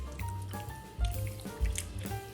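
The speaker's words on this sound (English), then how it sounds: "All you do on the velveting is just vigorously massage the meat." Raw beef is vigorously massaged and squeezed by hand in liquid while velveting for ginger beef, giving wet squelching and dripping sounds in irregular bursts with a few firmer squishes, close and fairly quiet.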